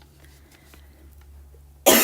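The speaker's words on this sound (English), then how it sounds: "And there's my cough." A single sharp, loud cough bursts out at the very end after a near-silent stretch.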